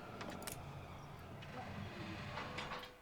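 A train running through a harbor area in the video game Anno 1800, a faint continuous rolling rumble with light clicks and clanks on top, heard alone at a low level.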